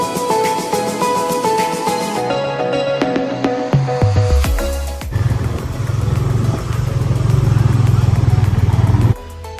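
Motorcycle taxi riding through heavy Bangkok traffic, its engine droning steadily with clattering road noise and passing vehicles, loud and close, with surrounding music and voices early on.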